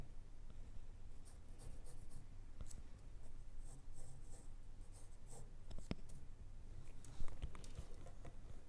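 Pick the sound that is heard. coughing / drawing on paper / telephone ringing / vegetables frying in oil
drawing on paper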